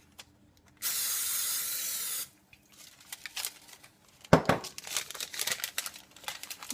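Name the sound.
spraying a cake pan with spray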